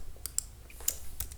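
Soft, close keystrokes on a computer keyboard, a few irregular clicks in quick succession at low volume with no voices.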